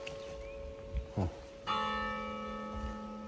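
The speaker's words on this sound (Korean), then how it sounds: "종이 울립니다" A few soft knocks, then a single clear church bell strike at eight o'clock that rings on and slowly fades, fairly distant, heard on a cycling route in the Loire valley, France.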